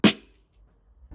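Second of two layered snare samples for a gritty gospel-sample beat: one punchy snare hit right at the start with a bright noisy burst and quick decay, a faint knock trailing near the end, no voices.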